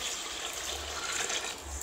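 Water being poured into a cooking pot while making biryani at home, a steady broad splashing gush that runs close and continuous for the whole short stretch.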